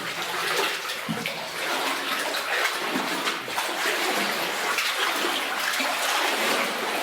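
Cold water flows and splashes steadily inside an old mine, a continuous broadband rush heard close and fairly loud with no pauses.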